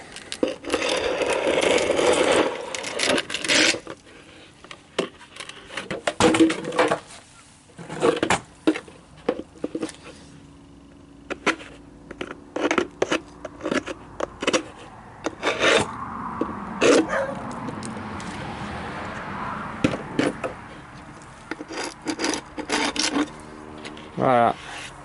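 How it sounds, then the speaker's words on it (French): Wax is scraped off wooden beehive frames during equipment cleaning, giving repeated rasping scrapes in uneven bursts with pauses between them, close and fairly loud. A person talks at times between the strokes. "Donc là, on vient les gratter. Juste un grattage."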